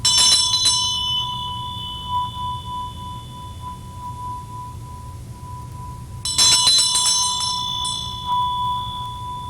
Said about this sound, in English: a bell and a dorji